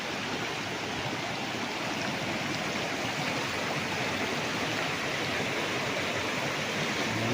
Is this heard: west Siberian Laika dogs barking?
no